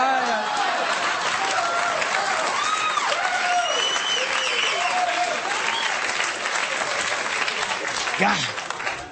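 Sustained studio audience applause at a late-night comedy monologue, dense and steady throughout, with laughter and voices riding over the clapping near the end.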